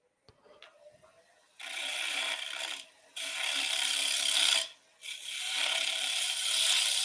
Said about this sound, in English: We'll do some light scraping, shear scraping this way.